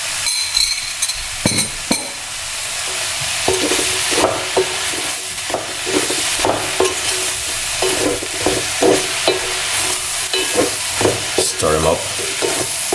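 Eggplant frying in a pan sizzles steadily while a utensil stirs it, scraping and clinking against the pan in repeated close strokes over the constant hiss.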